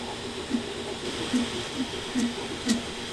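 An Ender 3 S1 3D printer's extruder gives a faint, squidgy little chirp each time it retracts, five soft repeating squeaks about half a second apart over a steady low mechanical hum.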